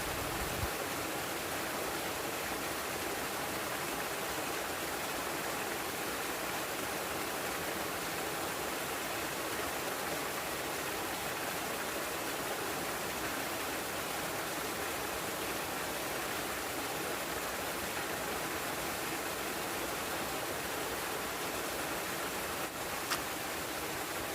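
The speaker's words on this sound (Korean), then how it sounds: "계곡의 물소리 들으시면서 잠시 쉬어가는 것도 괜찮을 것 같습니다" A mountain valley stream in a high Gyeonggi-do gorge flows continuously, a steady broadband rush of water at moderate distance with no voices.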